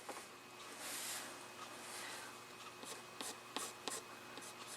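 Soft scratchy strokes of a watercolor pencil colouring on paper, with quiet rubbing followed by several short, crisp marks close by.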